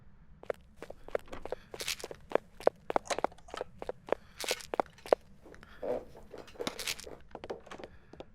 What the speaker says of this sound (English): just listen closely to the footsteps